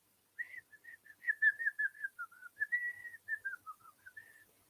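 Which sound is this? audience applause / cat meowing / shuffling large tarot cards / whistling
whistling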